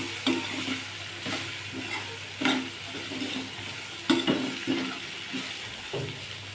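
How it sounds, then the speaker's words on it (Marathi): Cluster beans frying in oil sizzle steadily while a spoon stirs and scrapes the pan in repeated clanks and knocks, close and clear, with no talking. "आता आपण गवार ही व्यवस्थित तेलामध्ये परतून घेऊया।"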